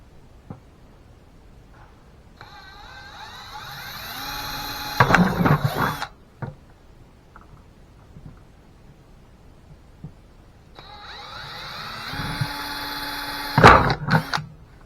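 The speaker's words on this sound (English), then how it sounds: "So let's get a drill bit on, get the holes drilled out." A power drill whirs up twice in long runs, each ending in a rattling burst as the bit bites through, with quiet pauses between.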